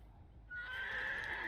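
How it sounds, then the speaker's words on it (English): A horse neighs in the video game Dead by Daylight: one loud, drawn-out whinny begins about a third of the way in and carries to the end over a low background hum. "Nice horse."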